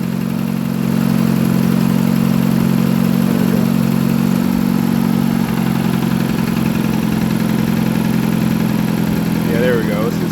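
A 2.0-litre Dodge Caliber engine runs steadily at close range with a rough, uneven hum, consistent with a misfire, while a voice speaks over it.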